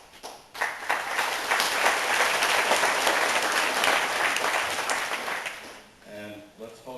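Audience applause at an honors college matriculation ceremony at Southern Arkansas University, a dense burst of many hands clapping that swells, holds for several seconds, then fades as a voice begins speaking.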